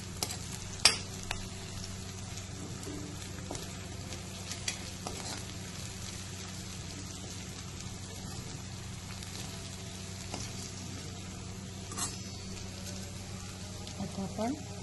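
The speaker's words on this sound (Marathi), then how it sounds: "तुमच्या घरी जो असेल मसाला भाजीचा तो मसाला थोडं परतून घेऊयात" Vegetable masala with coriander powder sautés quietly in a pan for palak paneer, giving a faint steady sizzle broken by occasional soft clicks of a spatula.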